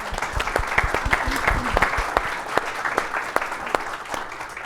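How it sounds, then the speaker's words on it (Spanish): Applause from the audience at a panel discussion on economic and labor crimes law, continuous and moderately loud, with sharp individual claps standing out from the steady patter for the full few seconds. "Un aplauso para Sergio."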